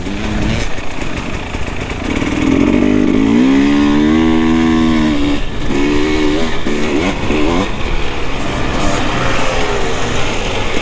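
A Husqvarna TPI chainsaw revs loud and close, its engine climbing and falling in repeated throttle bursts with no one speaking.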